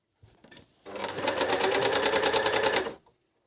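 A DF-Dragonfly 858 coverstitch sewing machine starts with a few clicks, then runs in a fast, even mechanical chatter for about two seconds before stopping, close and loud with no talk.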